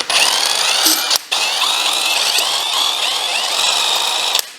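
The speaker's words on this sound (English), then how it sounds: "Now I will just take the bolts away and then we'll be ready to lift the head." A power tool, likely an impact driver or drill, runs steadily while removing cylinder head bolts from a Mazda MX5 engine, a loud close whine broken by one short pause near the start.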